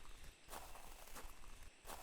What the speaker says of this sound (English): I do hear footsteps of probably the rest of the flock around it